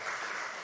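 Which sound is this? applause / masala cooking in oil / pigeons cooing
applause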